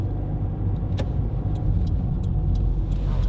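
A car engine hums steadily inside the vehicle during a driving lesson in Madrid, a low continuous drone with faint clicks and taps over it.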